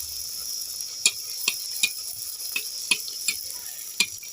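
Semolina masala puris frying one at a time in hot oil, a soft steady sizzle punctuated by a series of sharp ladle clicks and taps against the pan, close by and without speech.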